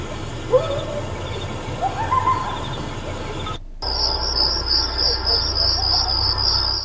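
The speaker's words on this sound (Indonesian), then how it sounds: "Di sini kita bakal dikasih suara-suara ambient, mulai dari kayak suara laut, suara jangkrik segala macam." Crickets chirp in a steady, high, continuous trill after a brief cut, with softer night ambience and bird-like calls beforehand, played as an ambient sound through a 2024 Kia Seltos car system.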